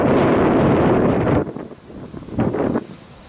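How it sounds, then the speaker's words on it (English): Strong wind buffets an outdoor microphone in a loud rumbling roar, then drops off abruptly to lighter gusts with a brief renewed burst near the end; no speech. "Windy day."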